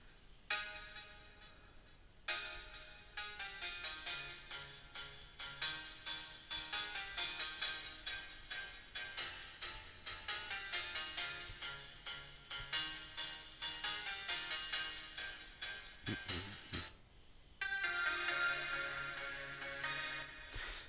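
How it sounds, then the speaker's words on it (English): A piano voice from the Nexus plugin in FL Studio plays back an imported MIDI file, bright sustained chords and melody notes ringing steadily for about twenty seconds, with one brief gap near the end. "add a piano sound, and we can listen to it"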